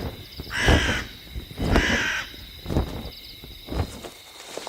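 Crows caw in a series of harsh, loud calls at night, about four bursts spaced roughly a second apart, close by, with a faint insect-like hum in the background.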